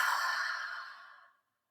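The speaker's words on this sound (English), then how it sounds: "exhale all the air from your lungs" A long, breathy exhale during a yoga breathing exercise, close and soft, fading steadily over about a second and a half into silence.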